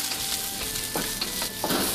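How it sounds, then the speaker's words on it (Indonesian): Garlic, ginger and carrots sauté in a little leftover oil in a pan, a steady close sizzle with several sharper bursts of stirring and frying crackle, no voices. "Tumis sampai harum, lalu masukkan wortel."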